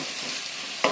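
Onions frying with garlic and ginger paste give a steady close sizzle, with a short scrape of stirring near the end.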